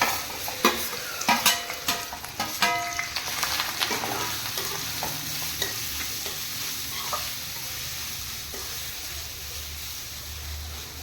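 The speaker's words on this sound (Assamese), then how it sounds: "তাত মিঠাতেল দিলোঁ, দি পেলাই এই ৰুকি লোৱা জলফাইখিনি মই ঢালি দিলোঁ" Chopped Indian olives tipped into hot mustard oil in a wok: a burst of clattering stirs and loud spattering at first, settling into a steady, close sizzle.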